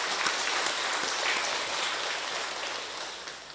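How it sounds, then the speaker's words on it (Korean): A church congregation applauds to thank the pastor after a sermon, producing dense, sustained clapping from many hands that fills the room and tapers slightly toward the end. "우리 박수로 한번 감사 인사하면 참 좋겠습니다."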